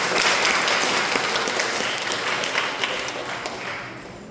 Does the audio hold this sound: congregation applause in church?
yes